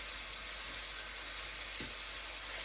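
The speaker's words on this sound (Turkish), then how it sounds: "Şöyle akşam yemeğimizi kızartayım." Dinner frying in a pan, a soft, steady sizzle with a faint stir or tap near the end, heard alone and fairly quiet.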